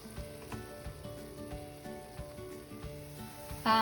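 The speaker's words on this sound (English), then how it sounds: "you can see the sizzling oil and beautiful color of tomato chutney" Steady oil sizzle and frying crackle from a pan of tomato chutney, close and continuous, with faint stirring knocks and a brief louder clatter at the end.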